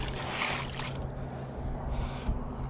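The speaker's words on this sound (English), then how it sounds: "That wind is awful." Steady wind rushes across the microphone on a beach while digging for sand shrimp, a loud, continuous broadband roar with gusty swells and no voices.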